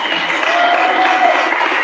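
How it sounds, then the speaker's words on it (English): A crowd claps together at a community celebration for Men's Health Month and Juneteenth, producing a steady, dense patter of hands at even loudness with no clear break. "So if you all want to give a hand clap to McKinley"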